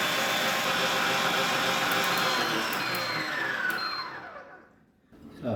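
A Zuccie stand mixer running at power level 1, a loud steady motor whir that holds for several seconds and then winds down to near silence before a brief bump.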